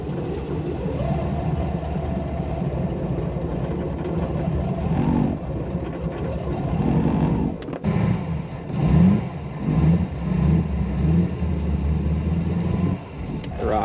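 New 350 HP Chevy engine in a 1991 Malibu competition ski tow boat prone to stalling, idling steadily then revving in several uneven bursts near the dock, loud and close with no talk over it.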